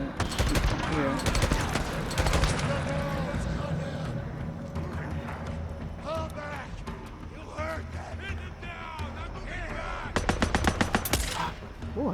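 Rapid automatic gunfire bursts from a Days Gone gameplay session, crackling loudly in clusters at the start and again near the end, with scattered shots and game sounds between.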